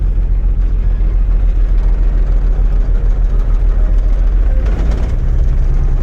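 A 1965 Ford Mustang engine idles as it warms up, a steady low rumble that holds close and even throughout, with a faint voice briefly under it.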